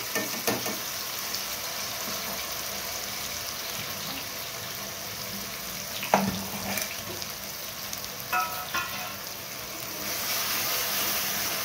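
Spice paste sautés in hot oil in a kadhai with a continuous broad hiss, a few spoon scrapes and crackles on top, close and without talk.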